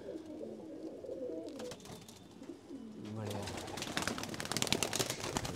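Pigeons coo steadily inside a home pigeon loft, a soft repeated burbling that grows busier and louder toward the end, with a voice talking at times.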